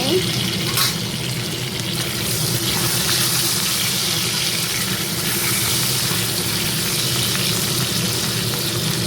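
Crab frying in goat fat in a pan over medium heat, a loud continuous sizzle and crackle holding steady for the whole stretch, with a brief clatter near the start.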